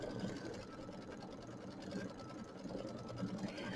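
A sewing machine stitches fabric at a steady, even hum with a fast mechanical chatter, running continuously and close by without pause.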